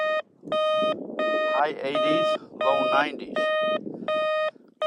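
An entry-level Pancky metal detector repeatedly sounds a steady, tonal electronic beep over a buried target, about seven evenly spaced chirps, with someone talking over the middle of the sequence.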